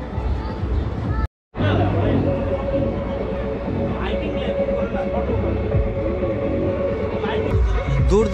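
A toy train at Dheusagar amusement park in Digha rumbles along nearby, steady and moderately loud, with crowd chatter and someone talking over it. The sound drops out briefly near the start.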